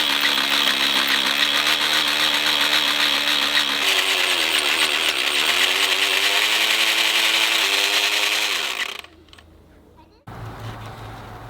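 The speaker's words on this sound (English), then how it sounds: "The hammer drill was going really slow" A hammer drill grinds slowly into hard rock, making a loud continuous buzzing drone for about nine seconds before it cuts out. A fainter, quieter sound follows.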